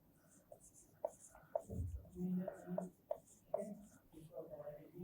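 A sentence is written by hand with pen strokes in short scratchy bursts, under a voice speaking Hindi and English in a quiet room.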